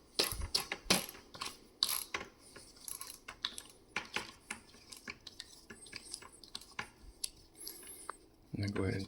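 Rapid clicking ratchet strokes from a hand tool tightening a pedal on a Jetson budget e-bike, close and irregular in bursts, with a brief louder rustle at the end.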